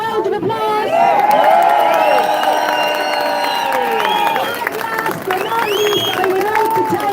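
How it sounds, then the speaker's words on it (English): A crowd at an outdoor protest in Cork applauds and cheers for musicians, including a piper. Clapping and whoops rise over a busy mix of voices, with shouted calls and a few high tonal cries throughout. "can we give them a round of applause?"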